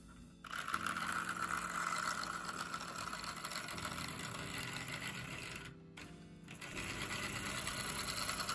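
A Rivarossi USRA Mallet model locomotive's motor running slowly forwards after restoration, a steady close buzzing hum that cuts out briefly near the end before resuming, no voices.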